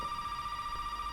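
A telephone rings in the video game Resident Evil 7, a thin, steady electronic tone sounding faintly in a quiet room for about a second.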